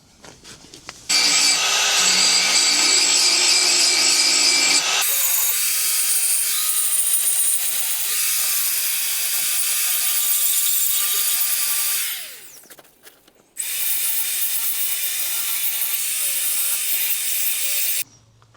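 A small detail sander works over the rusty body of a Mitsubishi Evo, its steady high-pitched buzzing grind running loud and close in two long bursts separated by a brief pause, with no talking.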